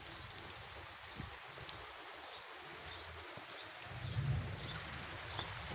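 Soft, steady rain hisses quietly and evenly, with a faint low rumble beneath and a few scattered drips.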